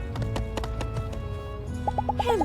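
Hooves clip-clop in a steady trotting rhythm from a horse in the video game My Time at Sandrock, close and clear, with bright chime-like game effect tones near the end.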